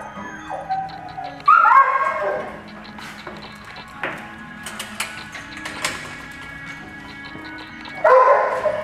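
Dogs at an animal shelter let out sharp yips and whimpering cries in several bursts, separated by clattering and metallic knocking in a reverberant room.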